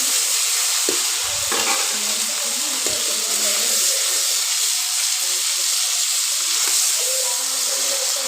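Fish heads frying in a pan, a steady hissing sizzle with a few sharp clanks and scrapes of a utensil early on, close and constant, with a faint voice now and then.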